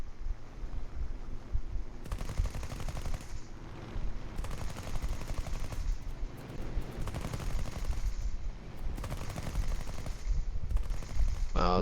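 Aircraft machine guns fire in the combat flight game War Thunder, in several rattling bursts over a steady engine drone with quieter stretches between them.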